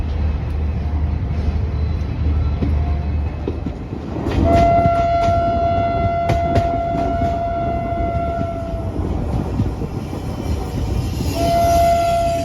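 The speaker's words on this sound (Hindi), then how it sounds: "अपनी ट्रेन यशवंतपुर रेलवे स्टेशन के प्लेटफॉर्म नंबर 2 से निकल चुकी है" Garib Rath express train pulling out of Yesvantpur railway station platform 2, a steady low rumble of wagons joined by a long, loud horn blast and a second horn near the end, with no talking.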